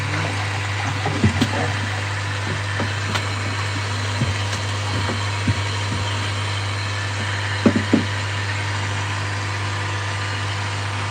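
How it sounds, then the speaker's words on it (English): A water pump runs steadily while a koi pond is being flushed, a constant low mechanical hum under a few faint knocks and clicks, with no speech. "Turn this pump off and then make sure that this isn't siphoning now."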